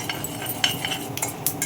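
Mustard seeds tipped into hot oil in a pan over a high flame, for a bottle gourd curry: scattered light clicks and ticks over a soft, faint sizzle, with no voices.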